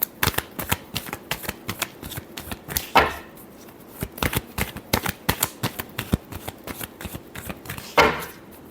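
A tarot deck is shuffled up close in fast, loud bursts of papery riffles and slaps, with a couple of heavier bridging sweeps in between and no voices.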